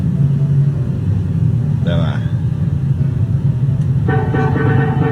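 A truck engine rumbles and drones steadily throughout, with a tonal blast-like burst partway and another sustained tonal sound near the end, while a voice speaks briefly over it.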